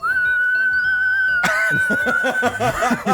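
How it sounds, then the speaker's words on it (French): A person whistles a single sustained, steady tone that holds for over a second, then breaks into laughter and giggling while a faint whistle continues underneath. "J'ai juste sifflé."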